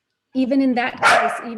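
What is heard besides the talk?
dog barking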